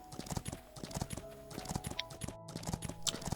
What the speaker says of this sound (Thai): ตอนนี้ม้าผมก็เริ่มไวขึ้นแล้ว